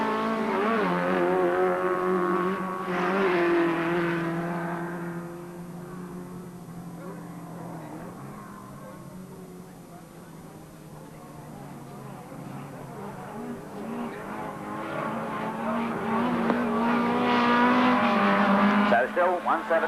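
Rallycross cars racing at Lydden Hill in 1985, including a Brian Slark-powered Metro, roar past with engines revving and rising and falling in pitch, loud and steady throughout, under a commentator's continuous talk.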